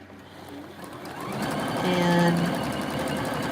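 Sewing machine stitching a few quick stitches back and forth, a soft close mechanical whir that swells and holds steady after about a second, heard alone without talk.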